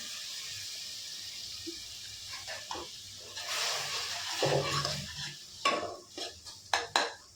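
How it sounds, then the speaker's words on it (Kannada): Green chillies frying in oil in a pan while being stirred, with a low sizzle under scraping and clinking utensil strokes that grow louder and more frequent toward the end, close and without speech. "ಅದನ್ನು ಚೆನ್ನಾಗಿ ಫ್ರೈ ಮಾಡ್ಕೊಳ್ಳಿ"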